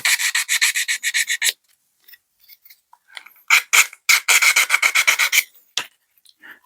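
Rapid back-and-forth rasping strokes of hand sanding an MDF terrain building part, close and loud, in two bursts separated by a pause with a few light scrapes.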